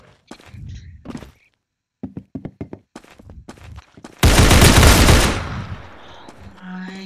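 Rapid automatic gunfire from the Roblox shooter game Arsenal bursts in as a loud, dense volley lasting about a second, preceded by scattered short clicks and thuds and trailing off into fainter game sounds.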